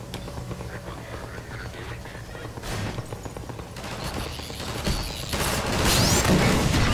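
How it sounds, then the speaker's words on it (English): A pulse rifle in Half-Life 2 fires its alternative mode, a heavy blast with mechanical clatter and crashing that builds louder toward the end. "that's the alternative fire to the pulse rifle"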